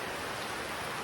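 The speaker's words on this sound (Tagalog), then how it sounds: "Sobrang lakas ng ulan." Heavy rain pours down steadily in a continuous, dense broadband wash, loud and close, with no voices over it.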